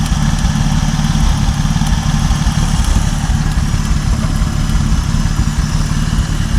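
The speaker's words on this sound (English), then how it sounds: "We're going to need to run that just at idle like this for about 30 minutes." The engine of a 1950 Dodge Meadowbrook idles steadily, a loud, close, low rumble that holds an even, unbroken drone with no voices over it.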